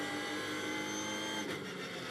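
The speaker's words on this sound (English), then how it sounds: "Back onto the loud pedal goes Broadbent, down to turn 3." A Ginetta GT race car accelerates hard out of a corner at Snetterton during a championship race, its engine a dense, sustained, buzzing roar with strong harmonics, heard at close range without talk.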